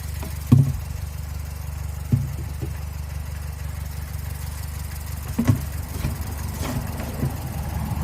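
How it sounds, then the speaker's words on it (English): Mazda RX7 with a 12A rotary engine turning over, a low steady engine rumble running throughout with a few brief louder thumps and bursts. "Crank the key for a minute"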